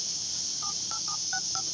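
A phone number is keyed on a touch-tone phone: five quick dialing beeps at an uneven pace over a steady background hiss, close and clear, with no one speaking.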